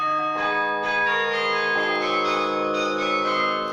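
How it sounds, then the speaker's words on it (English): A grand carillon of 60 bells rings out a sustained, layered peal of tuned bell tones, with new strikes overlapping as earlier notes fade. "We have a carillon, a grand carillon of 60 bells."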